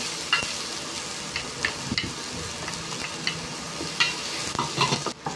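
Beef sizzles and fries with softened onions in a pan for beef pares, with a steady crackling hiss broken by repeated scraping stirs, close and clear with no talking.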